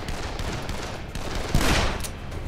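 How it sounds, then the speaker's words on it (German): Gunfire bursts in Dead Island, a dense stream of rapid shots with a louder volley near the end, against constant game noise. "Da schießt irgendwas."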